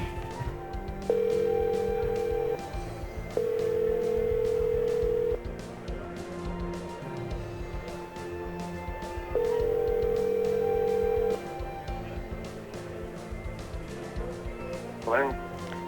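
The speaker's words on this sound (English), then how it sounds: "if your phone starts ringing in a couple seconds" A telephone ringback tone repeats in long, steady bursts with gaps between them while a surprise call is placed to a sweepstakes winner at an annual fly-in, with faint room noise and murmuring voices underneath.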